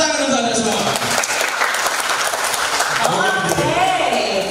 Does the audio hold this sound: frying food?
no